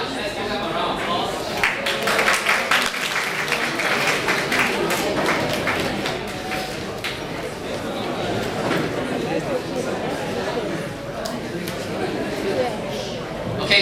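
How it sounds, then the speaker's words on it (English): Steady applause from a lecture audience, dense clapping filling the whole stretch with a murmur of voices mixed in, loud and sustained without a break. "Let's give them a round of applause"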